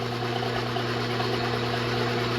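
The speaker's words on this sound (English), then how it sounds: "You got to excuse the noise of the old lathe." An old 1942 lathe runs steadily at close range, a constant mechanical hum with a strong low drone and a busy midrange whir, no pauses and no voices.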